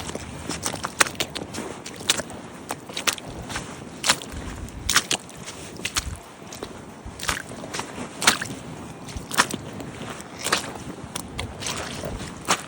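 Wet, squelching footsteps tread steadily through river mud at low tide in Berwick upon Tweed, each step a soft sucking squish with faint drips between, close to the listener and without talk.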